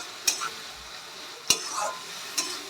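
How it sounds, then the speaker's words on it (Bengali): A ginger, garlic and green chilli paste stir-fries with onions in a pan for fish egg curry. It gives a low sizzle broken by three sharp metallic scrapes of a spatula against the pan. "এটাকে দিয়ে আমি ভালো করে কষিয়ে নেব"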